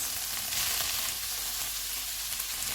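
Minced beef (keema) fries with capsicum and onion in a pan, a loud, continuous close-up sizzle with no talking.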